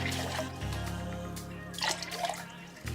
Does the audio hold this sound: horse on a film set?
no